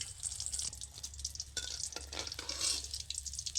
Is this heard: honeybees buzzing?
no